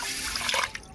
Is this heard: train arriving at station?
no